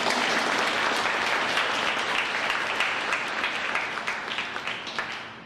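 Loud, dense applause from a crowd of young people at a school DARE program event, steady at first and then thinning into scattered individual claps as it fades toward the end.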